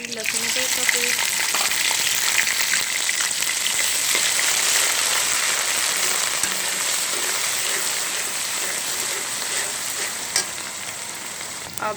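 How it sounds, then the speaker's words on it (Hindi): Garlic and ginger paste with cumin seeds and curry leaves frying in oil in a pan for vegetable pulao, giving a steady, loud, close sizzle with occasional stirring scrapes. "अब 1 मिनट तक हम इसे फ्राई करेंगे। लहसुन अदरक को हम अच्छी तरह फ्राई करेंगे"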